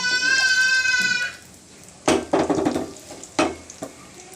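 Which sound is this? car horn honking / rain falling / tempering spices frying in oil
tempering spices frying in oil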